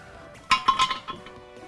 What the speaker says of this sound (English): Just get these snug with a wrench and then one more half turn.